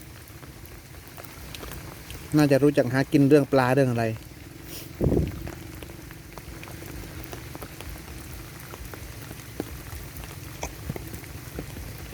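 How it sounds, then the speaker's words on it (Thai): Steady light rain falls outdoors by a fish pond in the evening, a soft continuous patter under brief nearby talk and a single dull thump. "อ๋อวันฝนตกนะ"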